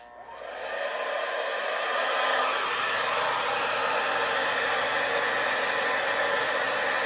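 A paint spinner whirls a fluid-art canvas poured with copper and gray paint. After a quick spin-up it settles into a loud, steady, hissing whir, like a hair dryer, that runs without talk.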